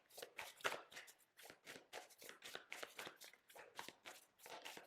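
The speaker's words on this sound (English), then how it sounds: "Hopefully I don't have to shuffle it too long before something comes out." A deck of tarot cards is shuffled by hand: a quiet, steady run of soft riffling and flicking strokes, close up, with no voices.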